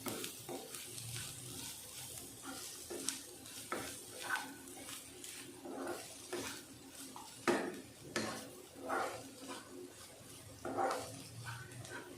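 A spoon scrapes and clinks against a cooking pan as coriander powder and chili are stirred in, giving quiet, irregular metallic taps and a soft sizzle underneath.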